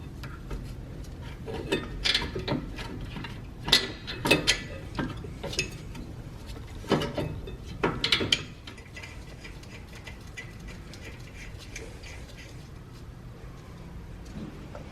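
Metallic clicks and clanks from fitting a Toyota Camry Hybrid rear brake caliper carrier with 14 mm bolts and washers, scattered sharp taps close by in the first half, then quieter handling noise.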